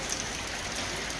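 Steady rain pours down in a continuous, even hiss of falling water, close and uniform with no pauses.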